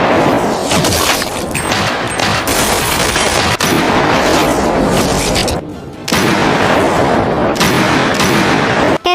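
Gunfire rings out in a film shootout as a sniper fires from a rooftop on police trading shots with criminals, a dense, loud barrage of cracks and booms running almost nonstop, briefly dropping away near the middle before resuming.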